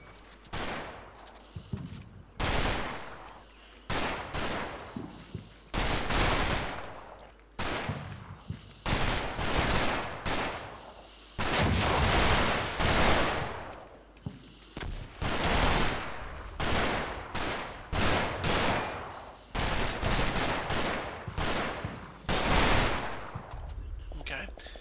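Machine gun and rifle fire from a Combat Mission Battle for Normandy battle against German troops: repeated loud bursts and volleys roll on continuously with brief gaps, dense and close.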